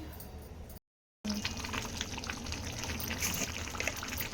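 Water pours into a pan over masala-coated amaranth pieces for a home-style fry, a close, steady splashing stream broken by a brief silent gap, with no voices.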